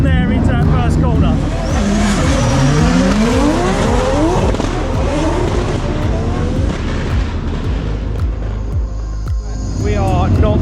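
Two 1,000-horsepower drift cars launch off the start line at a Drift Masters event in Finland, engines roaring loud and near, then fading toward the first corner, while overlapping revs and tire noise continue throughout and an announcer talks over them.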